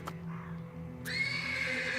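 A horse neighs persistently in the stables in the game Black Book, a shrill whinny rising after a short lull and carrying on loudly over a low ambient drone, with a faint earlier call near the start.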